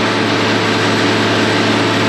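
A mulch chopper machine's engine runs loud and steady, a continuous close drone with no break and no voices.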